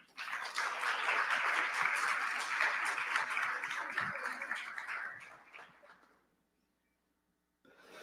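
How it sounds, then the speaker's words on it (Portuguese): A conference audience applauds a speaker with dense, sustained clapping that fades out, followed by a brief silence and a faint return of sound. "Salva de palmas, Matheus Jorge."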